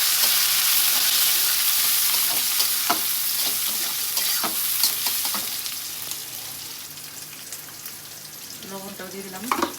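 Onion and green chilies fry in leftover fish-frying oil topped up with fresh oil, a loud close sizzle with scraping stirs that gradually quietens, ending with a few clattering utensil knocks.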